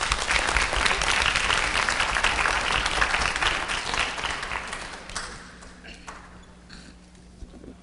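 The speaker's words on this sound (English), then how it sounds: "Let's give him a warm round of applause." Audience applause at a hip hop youth summit forum, a dense burst of clapping that fades out over several seconds into quieter room tone with a low hum.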